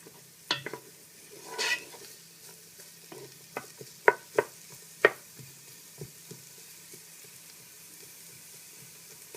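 Onions and garlic brown in a pan over turned-up heat while making butternut squash soup, a faint sizzle under scattered stirring scrapes and utensil taps against the pan.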